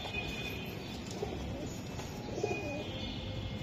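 Racing pigeons coo softly a couple of times over a steady background hum, the low calls fairly faint and spaced apart.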